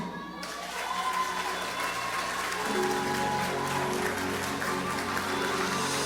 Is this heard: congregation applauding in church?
yes